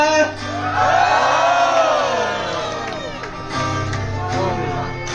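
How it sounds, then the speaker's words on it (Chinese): An audience at a campus singing contest screams loudly in a sustained roar of cheering and whooping, with an amplified voice rising over the crowd. "尖叫声！"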